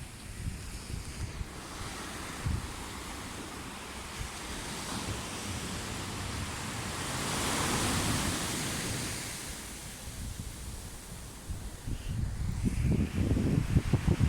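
Ocean waves wash onto a beach in Portugal at high tide, a steady broadband rush that swells and recedes, growing rougher and louder near the end, with wind buffeting the microphone.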